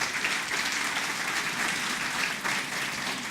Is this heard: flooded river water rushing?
no